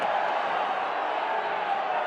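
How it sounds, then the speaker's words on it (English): A football stadium crowd hoots and hollers at a USL Championship match in Louisville, producing a steady, distant roar of mixed voices without a break. "the crowd continues to hoot and holler"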